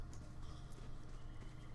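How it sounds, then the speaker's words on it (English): Horses in the fantasy role-playing video game Pillars of Eternity make faint, low snorting and shuffling sounds amid quiet ambient game background, distant and subdued throughout. "Ooh, horses. Hi, horses."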